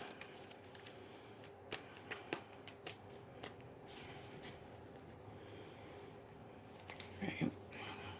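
Tarot cards being shuffled by hand, a soft, faint riffling and tapping with a few crisp snaps, close by, under a quiet background with brief murmurs of a voice.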